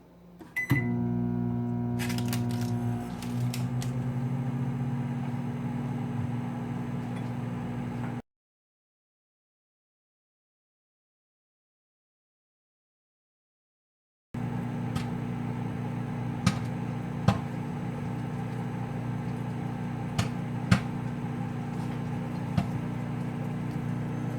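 A Sharp 700 watt microwave oven runs on its lowest power level with a steady, close electrical hum and a few faint clicks. It cuts to silence partway through, then resumes humming.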